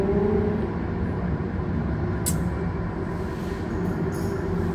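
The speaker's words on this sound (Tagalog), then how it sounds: "Ayan yung train, paikot-ikot" A steady low rumble from a train going round and round, like a small train circling a track, continuous and fairly close, with a couple of brief high clinks above it and no voices.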